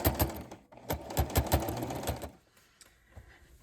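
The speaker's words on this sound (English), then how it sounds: "And as I sew, you'll see it will kind of shoot out the back." A sewing machine stitches fabric for a reusable duster in quick, loud, close rhythmic bursts for about two seconds, then slows to quieter, sparse stitches.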